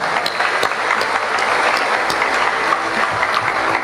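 A crowd at a church outreach event in Sorsogon City applauds, a dense, steady burst of clapping lasting several seconds without speech.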